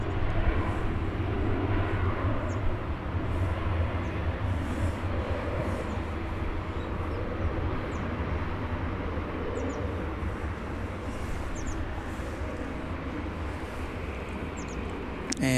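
An airliner arriving from Phoenix at Dallas Fort Worth airport gives a constant, distant jet rumble and roar that hangs steadily over the open airfield.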